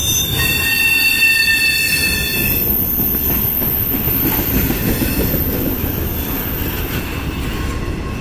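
A Norfolk Southern freight train led by SD70ACE locomotive 1088 rolls past with high wheel squeal in the first few seconds, then a steady rumbling clatter of railcars up close.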